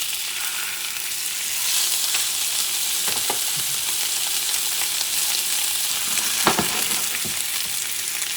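Wagyu steak sizzles steadily in a hot pan, rendering in its own natural fat, with a constant dense hiss and a few brief crackles and scraping stirs over about eight seconds, no talking.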